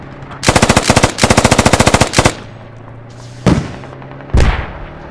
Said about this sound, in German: ich schieß hier gerade irgendwie alles zusammen, was rumläuft